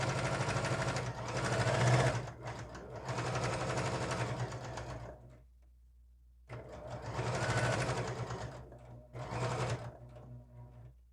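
A sewing machine stitches quilt binding in loud, close bursts of running, with a quiet pause in the middle before it starts again.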